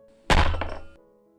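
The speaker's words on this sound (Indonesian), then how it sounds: "Terdengar meja digebrak oleh Dedi Selena." A table slammed once, a single loud, close thump that rings briefly and fades over the next half second.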